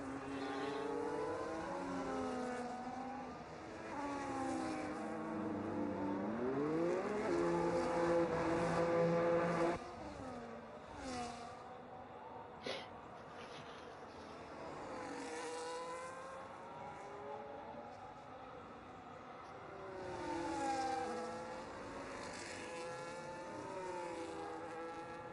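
Race cars in an F1 video game pitting on a wet Hungary circuit, several engines rising and falling in pitch as they pass and shift, one loud car dropping away, distant whines continuing without talk.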